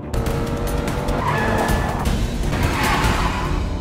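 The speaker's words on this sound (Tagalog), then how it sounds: "sinimulan niyang pabilisin ang sasakyan" A car accelerating hard, loud engine roar with squealing tires, close and continuous for a few seconds with no voices.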